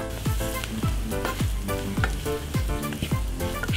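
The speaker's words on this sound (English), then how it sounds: "I love the smell of those toasting spices." Curry spices and garam masala for Japanese katsu curry sizzle steadily in a hot pan, a continuous close frying hiss with rhythmic scraping stirs roughly every half second.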